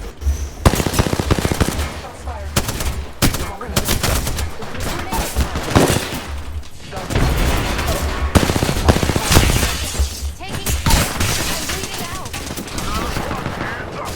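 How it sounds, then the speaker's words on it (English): Light machine gun firing in a video game, long rattling automatic bursts repeated across the whole stretch with short gaps between them, loud and close, mixed with other shots and game noise. "Oh, that's a light machine gun."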